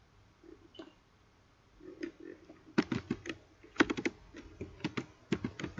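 Fast bursts of key clicks on a computer keyboard while code for an Arduino program is entered, close and crisp, starting sparse and then quickening into dense irregular clusters with no talking.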